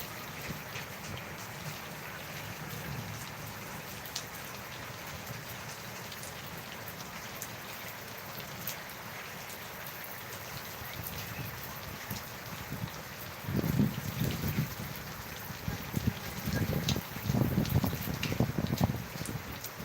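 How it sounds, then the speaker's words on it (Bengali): Steady rain pours over Dhaka during a thunderstorm in a continuous hiss, with heavier spattering bursts of drops on surfaces swelling near the end. "খুবই সুন্দর বৃষ্টি হচ্ছে"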